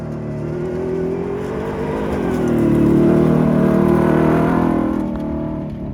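A 700 HP Ford Raptor R truck accelerates hard on dirt, a loud close engine roar rising in pitch and volume to a peak midway before easing off, with no voices.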